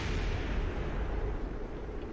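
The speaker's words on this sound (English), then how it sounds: "Whoa, that's a lot of explosions." Dense, continuous rumbling roar of explosions in Kerbal Space Program, loud and sustained with low-end booms blending together and no distinct gaps.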